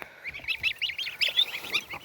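Domestic geese honk repeatedly and close by, a busy overlapping string of nasal calls with no talking.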